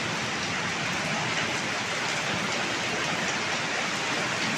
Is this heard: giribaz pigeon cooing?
no